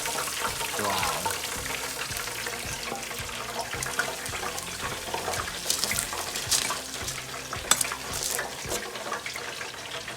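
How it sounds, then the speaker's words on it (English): Lahori charga chicken deep frying in a fryer, a steady loud crackling and bubbling hiss of hot oil that runs throughout with occasional sharper pops, with a voice speaking under it. "we're gonna put it in the deep fryer and get it done"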